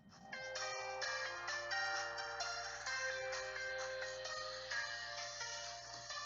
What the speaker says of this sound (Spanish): Apaga el celular, Rodri.